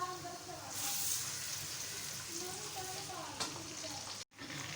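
Sliced onion fries in a cup of hot oil, giving a steady, close hiss and crackle that dips into a brief silence just before the end.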